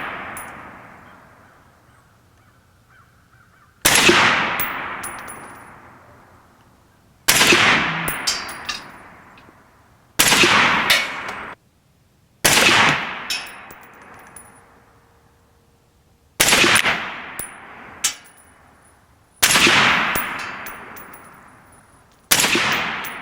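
A 6.5 Creedmoor AR-10 rifle fires seven loud, sharp single shots at spaced intervals outdoors, each crack followed by a long ringing echo that decays before the next shot.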